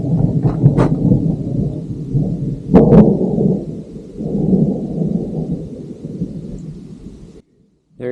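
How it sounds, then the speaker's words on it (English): An active mountain thunderstorm brings loud, close rolling thunder with sharp cracks over a steady wash of rain, and no voices. "There is a wicked cool active thunderstorm, like right there."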